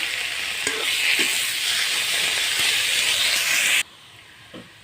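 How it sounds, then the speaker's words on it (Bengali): Bottle gourd leaves fry in a little oil in a wok, giving a loud, steady close-up sizzle with faint stirring scrapes that stops abruptly near the end. "লাউ পাতাটা একটু ভাজি নেব।"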